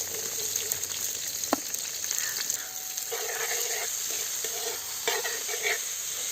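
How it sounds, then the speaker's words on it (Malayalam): Sliced onions and garlic fry in oil in a pan for a Kerala crab roast, a steady close sizzle with occasional scrapes of a stirring spoon and no talking. "നമുക്ക് സവാള ആഡ് ചെയ്യാം."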